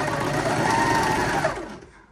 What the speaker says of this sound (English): And I like to sew it from the sleeve out.